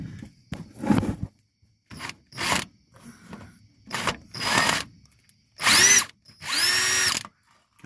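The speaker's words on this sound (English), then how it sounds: "I had the drill going the wrong direction." Several short bursts of a power drill whirring as it removes screws from a transmission pan on a 1979 Chevy C10, spaced irregularly, with brief rattles between and two longer, higher-pitched runs near the end.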